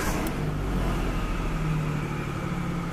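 The 4.0 V6 in a 2010 Ford Explorer Eddie Bauer 4x4 runs close by with a steady, low, rumbling idle, unaccompanied by speech.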